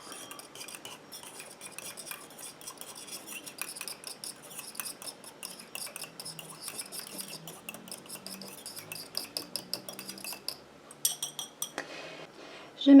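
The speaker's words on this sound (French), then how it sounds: "Et je viens mélanger." A utensil stirs a cosmetic eye-gel mixture in a glass container, producing rapid, light clinking and scraping taps that grow louder and more insistent toward the end, close up and without speech.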